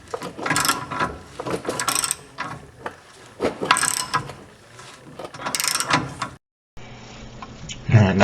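A hand ratchet loosening the torsion bar bolt on a Ford F150 during lower ball joint work, clicking in several close, repeated bursts of pawl ratcheting with short pauses between strokes.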